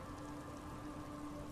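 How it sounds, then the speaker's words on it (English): Rain streaming steadily in the video game Disco Elysium, a soft continuous hiss with a faint low hum beneath, quiet and unbroken. "She looks at the rain streaming down the yellow belly of the boat."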